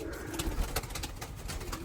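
Young pigeon cooing and soft bird calls close by in a loft, with a steady low rustle and a few other birds faintly in the background.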